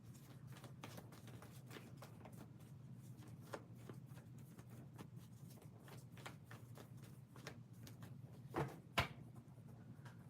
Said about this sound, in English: Hold on, Alta, I have to shuffle the cards